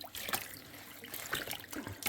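Water trickles and splashes quietly in a kitchen sink packed with collard greens being washed, with soft intermittent sloshes as the leaves are swished through the water.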